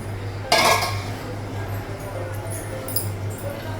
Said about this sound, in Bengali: ঢাকনাটা উঠানো